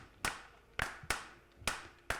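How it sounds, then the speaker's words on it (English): A handful of sharp claps from an audience at a conference stage event, five distinct hits spaced roughly half a second apart in a loose beat, with no talking. "So if you guys can clap, it'll be nice."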